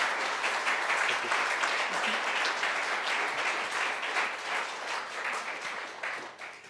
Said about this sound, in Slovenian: En aplavz, verjamem, da si zasluži.